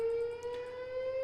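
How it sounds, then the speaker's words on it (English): A fire siren wails as a steady, sustained tone in the background, fairly quiet and continuous, holding its pitch with faint rhythmic pulses above it. "Can you guys hear the fire siren going on in the background? It's like really loud."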